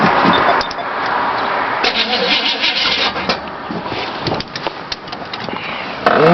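A car engine cold starting, cranking and then catching into a loud, rough, uneven idle close to the microphone, with sputters and revving bursts throughout.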